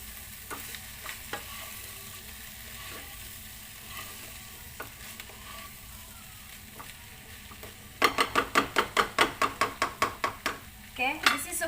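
Vegetable biryani ingredients with coriander and mint leaves are stirred together in a pot, a soft scraping and sizzling that turns into a run of quick, rhythmic clanking strokes near the end.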